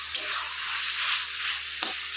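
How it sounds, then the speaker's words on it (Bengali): Flat beans frying in a pan with mustard paste sizzle steadily while a utensil stirs them, two brief scraping stirs standing out over the continuous close frying hiss. "এখন একটু আবারও নেড়ে চেড়ে দেবো"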